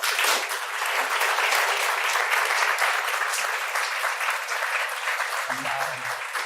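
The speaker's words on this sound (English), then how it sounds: "Round of applause." An audience gives a sustained round of applause at a panel event on the war on poverty, steady dense clapping filling the room throughout with a few faint voices near the end.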